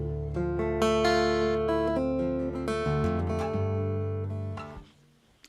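Guitar heard through the magnetic pickup of a black stack: full, sustained chords ringing warmly and fairly loud, shifting a few times before fading out near the end, with no voices.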